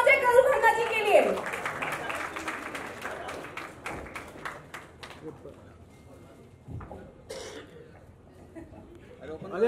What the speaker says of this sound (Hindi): जोरदार तालियां हो जाए तरुण खन्ना जी के लिए।